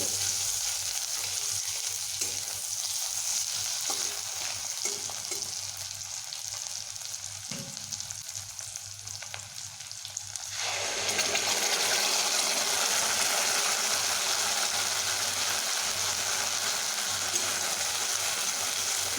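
Vegetables fry in a pan for a paneer curry, then ground spice paste is added and stirred over medium heat, so the quiet background sizzle turns into a loud, steady, hissing fry.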